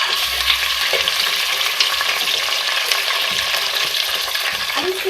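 Chicken pieces frying in a pan with light golden onions and bay leaves, giving a loud, steady, close sizzle with occasional stirring clinks. No one talks.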